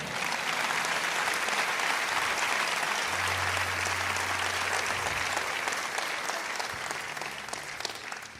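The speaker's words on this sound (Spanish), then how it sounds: "Alguien déle el aplauso al Señor." Congregation applause at a church service, a dense steady clapping from a large crowd filling the whole stretch and easing slightly toward the end.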